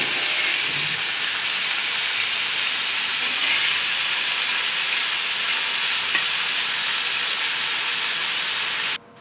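Bitter gourd pan-roasting on high flame, a loud steady sizzle and hiss of frying with stirring throughout, no voices, cutting off abruptly at the very end.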